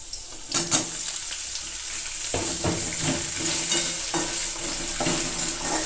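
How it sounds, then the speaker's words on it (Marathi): Cut potato dropped into chillies frying in a pan, a loud close sizzle that flares up and keeps crackling, with stirring clatter over it and no speech. "मग टाकायचं आहे त्यात कापलेला बटाटा."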